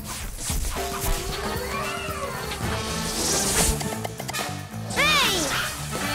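Cartoon cat meowing and caterwauling amid a busy animated soundtrack with crashes and music, its rising, bending cries most prominent near the end, over background dialogue.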